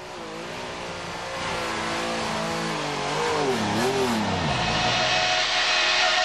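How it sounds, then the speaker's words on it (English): A 1993/94 DTM Mercedes C-Class touring car engine on track, building from a steady drone into a loud rising rev with pitch sweeps through gear changes, close and dominant with no talk. "we go out for our first ever lap in a German touring car"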